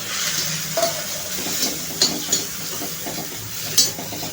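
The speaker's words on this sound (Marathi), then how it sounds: "टोमॅटो एक 2-3 मिनिटच परतायचा आहे आपल्याला आणि लगेचच मसाले टाकायचे आहेत." Tomato sautéing in a pan for Pune-style dal palak gives a steady frying sizzle and hiss, close and moderately loud, with a few soft clicks of stirring against the pan.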